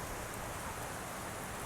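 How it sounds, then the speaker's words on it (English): Very heavy rain pouring down in Guangzhou, a dense, unbroken roar of downpour hitting surfaces, loud and steady with no gaps. "Very heavy rain, you can see here."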